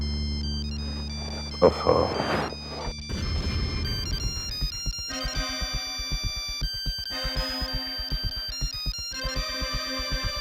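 A mobile phone ringtone plays a repeating electronic melody, loud and close, after a brief exclamation and a rustle, with the tune continuing to the end.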